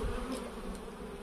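Honeybees fly in and out of the entrances of two busy hives, making a close, continuous buzzing drone with a few louder passes near the microphone.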